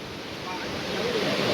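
Steady rushing water fills the clip, a broad wash of surf-like noise that swells slightly louder toward the end, with faint wind rumble.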